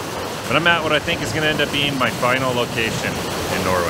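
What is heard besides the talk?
sea waves crashing on the shore in Lofoten, Norway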